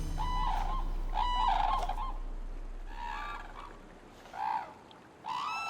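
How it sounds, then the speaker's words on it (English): Cranes gathering in a river on a Japanese island at nightfall, calling repeatedly in loud honking bursts over a steady background hiss, several calls spaced a second or so apart. "As night approaches, the cranes gather in a river."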